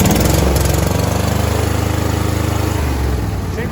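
Briggs and Stratton engine on a Craftsman T1000 42-inch lawn tractor running close by, a loud, steady rapid chugging with a pronounced rhythmic pulse that holds level throughout.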